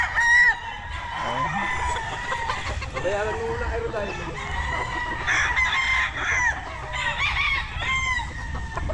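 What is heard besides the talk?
many chickens clucking and roosters crowing on backyard farm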